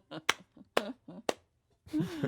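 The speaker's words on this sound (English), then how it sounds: "Applause on the other end of the line. I'm clapping for myself." A lone person claps their hands a few times, sharp close smacks spaced between bits of speech on a quiet phone-style line.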